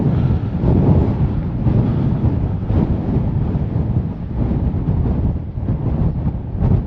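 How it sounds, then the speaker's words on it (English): Strong wind at Portland Bill Lighthouse on the Isle of Portland roars and buffets against the microphone in a continuous loud rumble, gusting unevenly throughout with no voices. "you may be able to hear it's actually far too windy to fly the drone around"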